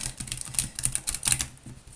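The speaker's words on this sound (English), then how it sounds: "We'll give this deck a shuffle up." A Clay Arcana tarot deck is shuffled close up, giving a rapid, crisp run of papery riffling and card slaps with no voices.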